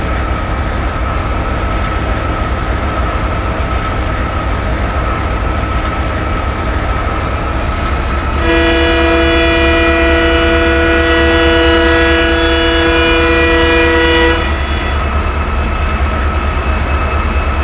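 The 16335 Nagercoil Express rumbles steadily along the tracks, then sounds a long, loud horn for several seconds before the rolling noise continues alone.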